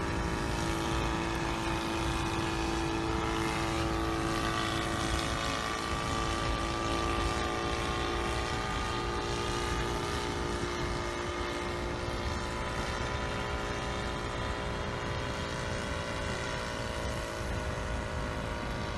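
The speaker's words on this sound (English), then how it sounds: "I'm gonna move the helicopter to the right a little bit by using the go to XY feature" An SK1000 UAV helicopter flies on autopilot, its rotor and engine giving a loud, constant buzzing drone with steady whining tones throughout, no voices.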